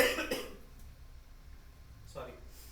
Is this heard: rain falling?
no